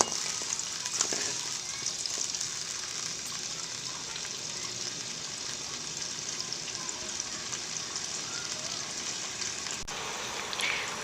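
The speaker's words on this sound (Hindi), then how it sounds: "देखें, हमारी चाशनी पक रही है" Sugar syrup for Punjabi makhandi halwa bubbles and cooks in a pan, a steady, soft, even simmering hiss with faint crackle that runs through the whole stretch with no voices.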